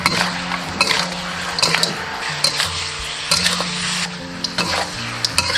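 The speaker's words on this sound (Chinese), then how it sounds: "现在给它翻炒均匀。" Lamb stir-fried in a wok with dark soy sauce, rib sauce and fermented tofu, a steady sizzle with repeated scraping and clanking of the spatula against the pan, close and busy.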